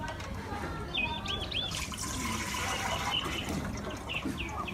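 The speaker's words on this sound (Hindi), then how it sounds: "पतीले में हम शामिल करेंगे पानी।" Water runs into a cooking pot set on a lit stove for boiling macaroni, a soft continuous pouring rush with faint bubbling, and a bird chirps in the background.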